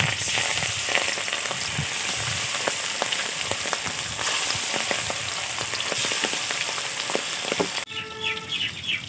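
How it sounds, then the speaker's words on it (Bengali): River khoira fish frying in hot oil, a loud, steady, close sizzle that runs unbroken, then drops abruptly near the end, leaving faint birdsong in the background. "তেল গরম হয়ে গেছে, এই তেলে মাছগুলো ভেজে তুলে নেব।"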